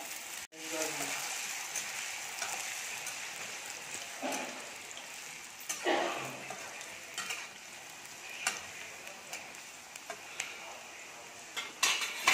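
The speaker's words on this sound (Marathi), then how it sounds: "आता आपण उडदाची डाळ टाकून घेऊया" Urad dal dropped into hot oil for sooji upma crackles and sizzles while a metal spoon stirs and scrapes the pan, producing scattered clinks and knocks over the frying hiss.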